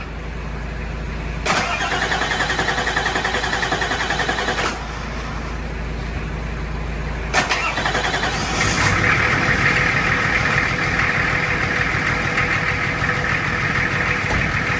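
A Nissan Safari diesel engine starts up and settles into a steady idle after air got into the fuel system during bleeding, with cranking bursts early on, then a continuous close rumble.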